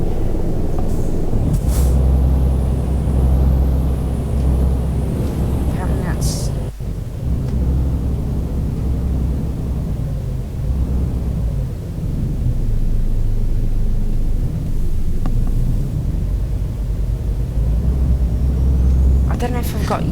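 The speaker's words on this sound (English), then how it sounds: "I don't know if I've got used to the American truck sounds, but to me it just seems a bit flat." A Kenworth T660 truck engine in the Euro Truck Simulator 2 game drones with a low, flat rumble under continuous talk, with a few air-brake hisses and brief glitchy sounds breaking in.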